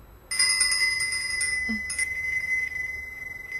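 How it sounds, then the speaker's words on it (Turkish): A doorbell's bright ring begins abruptly and sustains with steady tones, briefly broken once before continuing; no voices. "zil çalıyorum"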